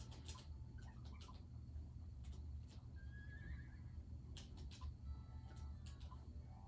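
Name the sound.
horse neighing in Miitopia video game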